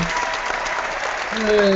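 Applause sound effect triggered in a Google+ Hangout, a dense steady wash of clapping that swells slightly toward the end, with a faint tone sliding in underneath.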